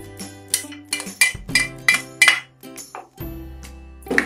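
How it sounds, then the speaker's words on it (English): Dried fish dropped into a pot for oha soup, giving a run of bright clinks and knocks of metal and utensils, about a dozen irregular hits at close range with no talking. "So basically everything goes into this pot. I'm going to be adding my dry fish as well."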